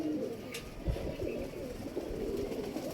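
Teddy golden cross pigeons cooing close by, low soft coos over a steady background murmur.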